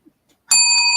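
A bell gives one bright, sudden ring that sustains with a shimmering metallic tone after a moment of near silence, loud and close.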